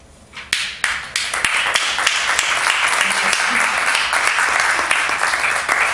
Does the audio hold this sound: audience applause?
yes